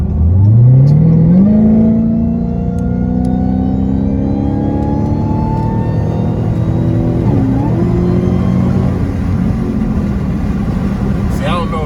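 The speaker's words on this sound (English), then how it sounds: "Y'all can hear the whine over the exhaust, because the exhaust is mad loud, and all I got is a mid-muffler delete on it." A car with a mid-muffler delete accelerates hard, its loud droning exhaust climbing through gears while a rising mechanical whine rides on top, heard from inside as a steady close roar.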